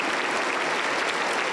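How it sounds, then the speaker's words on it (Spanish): Dense, steady applause from a Pentecostal church congregation during a worship service, a continuous wash of many hands clapping at once with no gaps, loud and close throughout. "Aplauso para el Señor."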